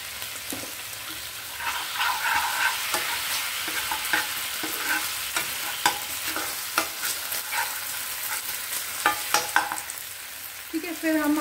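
Vegetables stir-fried in a pan with soy sauce and another sauce, sizzling steadily while a utensil scrapes and clacks against the pan in irregular strokes, close up with no talking.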